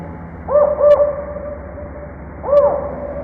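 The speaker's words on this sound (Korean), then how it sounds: "그때 다시 한번 부엉이가 울자" An owl hoots at night on a mountain, three distinct rising-falling hoots, two close together and one after a pause, clear over a faint background hiss.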